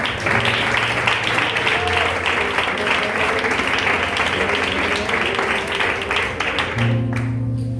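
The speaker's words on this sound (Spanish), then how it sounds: "Dale un aplauso fuerte, por favor." Congregation applause during a church sermon, a steady wash of many hands clapping throughout, with sustained tonal hum from music or instruments underneath.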